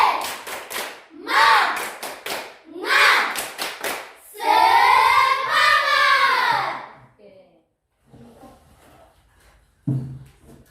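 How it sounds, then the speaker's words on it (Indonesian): A school class in a mathematics lesson performs a rhythmic spirit clap (tepuk semangat), bursts of quick unison claps alternating with children's chanting voices, then fading to quiet with a few scattered sounds. "Sebelumnya kita tepuk semangat dulu"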